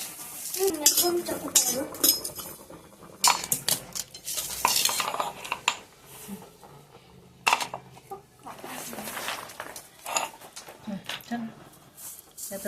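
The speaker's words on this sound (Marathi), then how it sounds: "आता सगळं मी थोडंसं परतून घेतले।" Dabeli masala being sautéed in a pan with two red chillies, a utensil scraping and clinking against the metal in repeated bursts, with a light sizzle beneath and a voice talking throughout.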